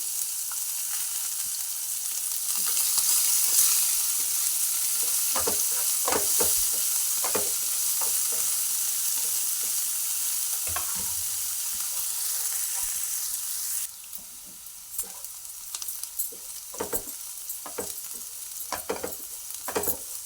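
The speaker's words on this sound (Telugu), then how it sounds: "పచ్చిమిర్చి ఇట్లా సగం వరకు వేగినాక" Onion, ginger and green chilli pieces frying with cumin in a pan, a steady loud sizzle with frequent stirring clatters throughout, the hiss dropping slightly partway through.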